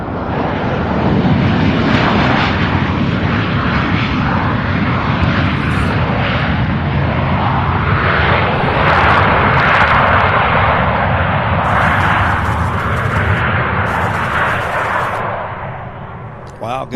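Several jet aircraft engines, including an MD-11 at Louisville International Airport beside the UPS Worldport, roar loud and steady throughout, a broad rumbling blast that holds its level before easing near the end.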